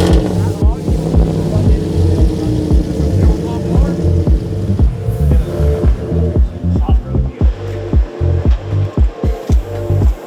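The big motor of an off-road dune vehicle with paddle tires at Dunefest throbs loudly with rhythmic revving pulses, and voices talk over it.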